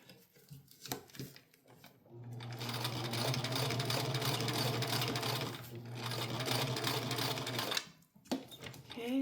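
A sewing machine stitches a cloth diaper in a steady, close whir for several seconds, starting and stopping between quieter handling noises, with brief speech around the run.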